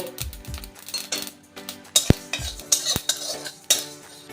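Dry spices with mustard seeds and a pinch of salt are roasted in a kadai, with a utensil scraping and clinking against the pan in repeated stirring strokes over a faint sizzle, close and fairly loud.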